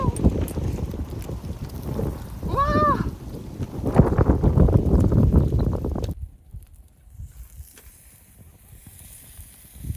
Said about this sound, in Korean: 바람이 너무 많이 불어서